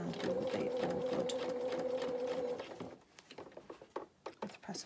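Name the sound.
sewing machine stitching fabric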